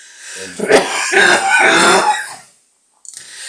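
A harsh, rasping cough that runs for over a second as a chesty throat-clearing burst, close to the listener, followed by silence and a faint noise.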